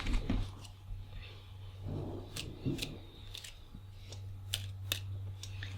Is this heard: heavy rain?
no